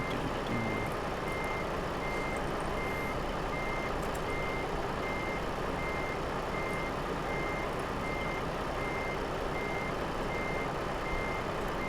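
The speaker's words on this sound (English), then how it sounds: "You guys can listen to all the beeping." Steady electronic reversing beeps repeat at an even pace from a truck in Euro Truck Simulator 2 multiplayer, sounding over a constant loud engine drone for the whole stretch with no talking.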